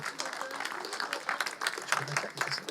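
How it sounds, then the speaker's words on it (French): A church congregation applauds to encourage a speaker, with a patter of many hands clapping under people talking nearby. "On peut l'applaudir pour l'encourager?"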